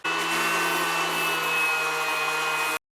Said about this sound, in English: I'm starting with a 240 grit on the orbiting sander.